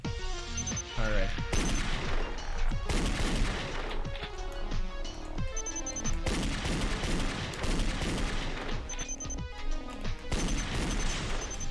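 Repeated gunfire bursts from the Danganronpa video game's class trial debate, loud and layered over game music, with a voice talking intermittently underneath.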